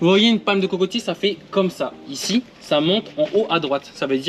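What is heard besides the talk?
No distinct noise like a dog, phone or traffic.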